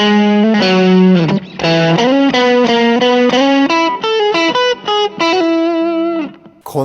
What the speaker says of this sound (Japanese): オーバードライブは一番スタンダードというか、よくいろんなところで聞く音だったり、あとはすごく使いやすい歪みだったりします